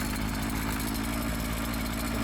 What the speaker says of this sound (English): can hear it idling.